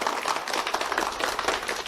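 Warm applause from an audience welcoming guests at a corporate event, a steady dense wash of many hands clapping throughout, fairly loud and unbroken with no talk over it.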